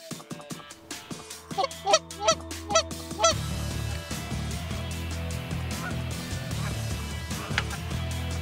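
Geese honk repeatedly in a frosty hillside field on a northwest wind, a quick run of loud, close calls at first that then thins into scattered, fainter honks over a steady background rumble.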